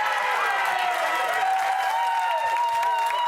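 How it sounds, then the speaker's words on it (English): Studio audience applause and cheering rise as a steady, dense wash of clapping at close range, with whoops and voices mixed throughout. "Just give him a round of applause."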